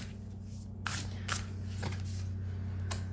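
Tarot cards are shuffled close by in a few quick riffling bursts over a steady low hum, with soft rustling between them and no talking.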